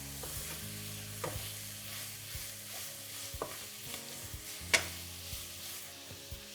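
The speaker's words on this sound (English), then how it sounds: "saute and make sure the onions and the garlic are softening" Onions and garlic sautéing in a pan for a dish of African cuisine, a steady low sizzle broken by scattered stirring clinks and utensil knocks, one sharper scrape standing out; no voices.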